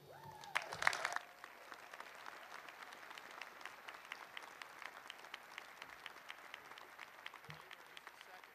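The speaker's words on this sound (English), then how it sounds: "Let's give her another round of applause." A university winter commencement audience gives sustained applause, a steady dense patter of many hands heard from a distance in a large hall, with a brief louder sound at the start.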